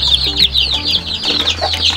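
Chicks peep and chickens cluck inside a coop, with close, loud, overlapping high chirps running continuously under a steady low hum.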